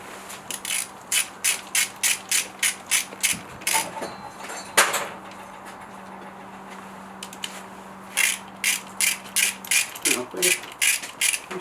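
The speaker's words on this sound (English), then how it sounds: "So we've got a few nuts here, 1, 2, 3, 4, 5, 6, 7, 8 to undo." A hand ratchet undoing the rocker cover nuts on a Mk2 Golf 16V engine, rapid regular clicking bursts close up, pausing in the middle before another run of clicks, with brief talking near the end.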